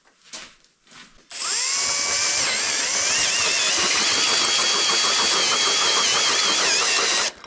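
A drill bores into cast iron on an MTZ-82 tractor, spinning up after a few faint knocks into a loud, sustained whine with a rising pitch that holds steady until it stops near the end.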